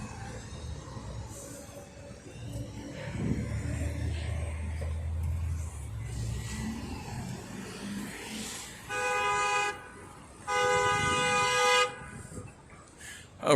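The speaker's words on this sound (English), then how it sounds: "I was wondering why that guy was honking at him" Car horns honk in city traffic near a light rail line, two long blaring blasts close by after a stretch of engine and road noise, with a brief voice earlier.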